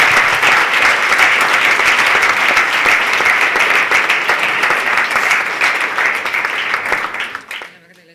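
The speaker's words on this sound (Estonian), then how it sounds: "Suur aplaus." A live audience gives loud, steady applause after a presentation at an evening talk on real estate and money, the clapping holding strong before tapering off quickly at the end.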